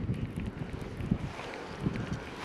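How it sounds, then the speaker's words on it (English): Wind gusts across a pond in Florida during a bass fishing outing, a steady rumbling buffet on the microphone with a few stronger low thumps, close and continuous. "Got this wind blowing back in here"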